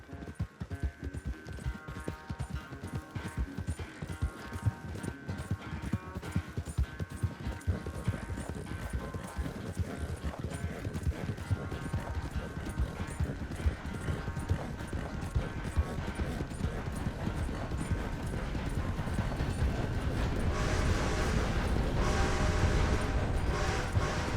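Steady clip-clop of horse hooves while riding in the video game Red Dead Redemption 2, a continuous loud galloping rhythm throughout with faint ambient music underneath and no talk.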